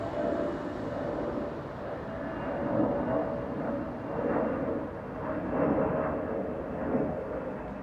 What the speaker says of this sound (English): the busy Düsseldorf airport, with its constant takeoffs and landings